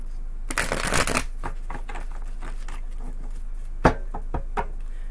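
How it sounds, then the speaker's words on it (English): Tarot cards are shuffled in quick riffling bursts, with a dense flutter at the start, then lighter taps and a sharp knock near the end, close and clear with no talking. "two more shuffles."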